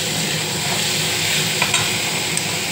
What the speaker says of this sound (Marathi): आता त्यात टाकतो टमाटर पण बारीकच केला आहे।